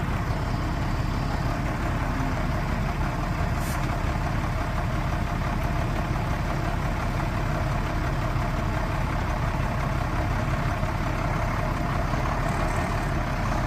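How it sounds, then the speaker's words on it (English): The engine of a 1994 International S2500 truck running steadily at idle, a continuous low diesel rumble, even and unbroken throughout. "once she's running, there's no smoke coming out of the smokestack. Engine sounds fantastic"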